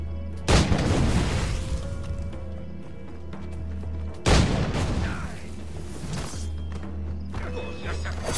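Gunpowder blasts in the video game Assassin's Creed IV: Black Flag: two loud, close booming explosions a few seconds apart, each with a sharp crack that decays into rumble over low game ambience.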